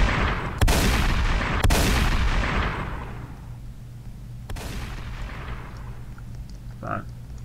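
Shotgun and taser fire in the Roblox video game Prison Escape: several sharp, loud gunshots, each trailing off into a decaying roar, with a low hum underneath.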